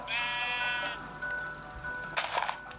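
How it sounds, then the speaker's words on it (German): A sheep in Minecraft gives one clear wavering bleat, close and fairly loud, then a short burst of other game sounds. "Das Schaf."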